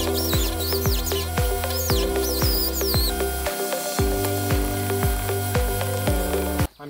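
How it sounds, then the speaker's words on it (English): A power drill whirs in steady repeated bursts close by, with sharp chipping knocks between them and birds chirping faintly in the background. "I just need to drill a little bit more in there"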